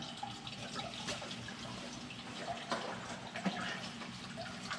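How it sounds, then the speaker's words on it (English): Antifreeze trickling and draining from the top of a Pontiac 400 V8 engine during a tune-up, a faint steady liquid splashing and dribbling with no talk. "More antifreeze coming out of the top than I expected"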